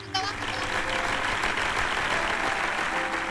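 A studio audience claps for a singer on a televised talent stage show, with steady applause filling the whole stretch and a host's voice faintly underneath.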